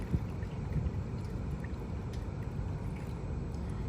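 Mushrooms being swished and rinsed in a bowl of water and lifted back out, giving a steady wet sloshing and gurgling with small splashes close by, no talk.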